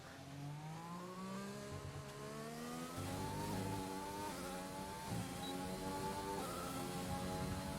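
Formula 1 race car engine in the F1 2020 video game, a steady high-pitched whine rising and falling through gear changes as the car brakes and accelerates, loud and continuous with no talk.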